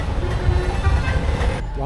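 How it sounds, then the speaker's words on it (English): Busy road traffic with buses and tuk-tuks beside Dematagoda Market in Sri Lanka rumbles close by, engines droning steadily with a brief horn toot, under an ongoing voice. "You can hear buses, tuk-tuks, and street vendors all blending into one lively soundtrack"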